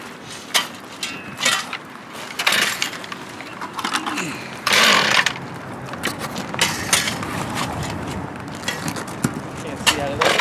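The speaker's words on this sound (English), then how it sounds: "Saw here, a chainsaw here, somebody on the rotary saw." A chainsaw and rotary saw cutting into a commercial roof whine and buzz in repeated bursts, with rattling and clattering from the cutting work and occasional voices in between.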